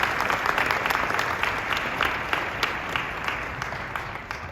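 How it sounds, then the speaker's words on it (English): At a music educators' award presentation, an audience claps steadily with a dense patter of hands, fairly loud and even, tapering slightly toward the end. "Can we give them a round of applause, please?"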